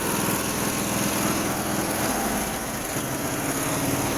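A small lawn mower engine runs at a steady fast idle after starting, loud and close with a constant buzzing drone throughout and no talking.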